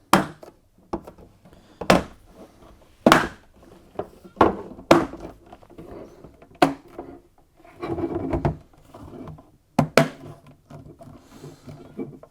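The inner and outer plastic door pieces of a Zanussi washer dryer are pressed and cracked back together, making a string of sharp, close knocks and snaps at irregular intervals with some scraping between them.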